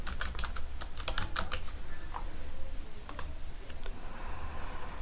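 Fingers type on a computer keyboard in quick bursts of clicky keystrokes, close up over a steady low room hum, with a brief pause midway before a few more taps.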